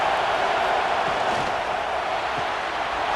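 Roaring stadium crowd in a college football video game, LSU versus Texas A&M, a dense, continuous wall of cheering noise at steady loudness with no breaks.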